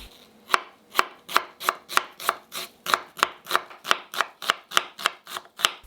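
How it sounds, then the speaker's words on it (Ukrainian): A knife dices an onion on a cutting board in a steady rhythm, about fifteen crisp, evenly spaced strokes, close up. "Беремо одну цибулину і нарізаємо кубиками."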